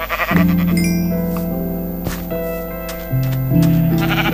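A Minecraft sheep bleats in loud, wavering tones, several bleats running back to back over a steady background with no talking.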